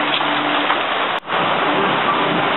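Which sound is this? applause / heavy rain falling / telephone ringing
heavy rain falling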